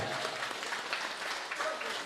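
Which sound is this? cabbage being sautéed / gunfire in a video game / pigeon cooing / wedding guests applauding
wedding guests applauding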